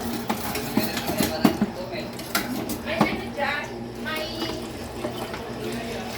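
Dishes being washed under running tap water, with clinking plates, pots and cutlery knocking in irregular bursts over a steady wash of water, while people talk nearby.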